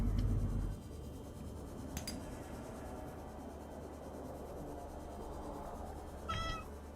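A pet cat gives two brief, faint meows several seconds apart over steady low background noise, with a short rumble at the start.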